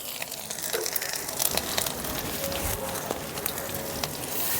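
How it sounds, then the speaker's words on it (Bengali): Chopped ginger sizzling in hot mustard oil with fenugreek, cumin, mustard seeds and asafoetida, a steady close crackling fry with dense hiss and small pops throughout. "একটু ভাজা ভাজা করে নেব।"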